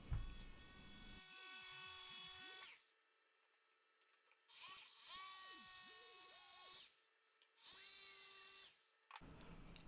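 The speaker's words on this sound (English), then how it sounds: "Using my jigsaw, I cut the outside shape of each of the legs." A jigsaw cuts wooden legs for a Pikler triangle in three loud bursts of buzzing, rattling reciprocation lasting a few seconds each, separated by brief quieter pauses where the motor winds down and restarts with a rising whine.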